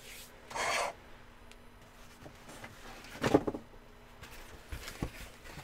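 Wood being hand-sanded with sandpaper: a few short, close rasping strokes in separate bursts, with quiet pauses between them.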